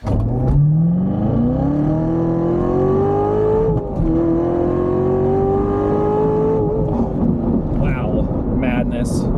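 A 650-horsepower Corvette Z06 engine revs up in a long rising roar, holds at high revs for several seconds, then settles into a rumbling idle with a few blips.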